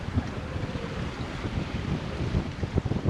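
Strong wind buffets the microphone aboard a sailboat at sea in a steady, gusty roar, with a faint wash of water beneath it.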